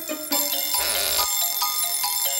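A cartoon bell rings out in a bright, steady metallic tone for about two seconds, loud and sustained over a faint musical background, with no talk over it.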